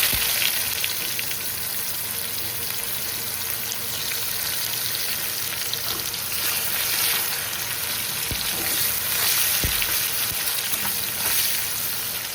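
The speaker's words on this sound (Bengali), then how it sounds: "এখন পেঁয়াজ কুচি ছেড়ে দেবো।" Chopped onion frying in hot oil, with bay leaf and whole cumin already in the pan, makes a steady crackling sizzle throughout, with a few soft knocks and scrapes from stirring close by.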